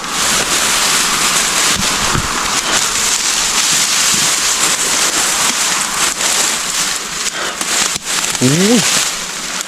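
Strong wind blowing outdoors in the countryside, a loud, steady, broadband roar buffeting the microphone throughout, with a short voice sound near the end.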